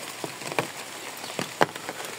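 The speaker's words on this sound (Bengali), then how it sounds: "এই বৃষ্টি হইতেছে, একদম রোডঘাট নীরবতা, একদম নীরব।" Rain falls on a quiet village road during a morning walk, a soft, close patter of scattered drops with a few louder taps landing at irregular moments.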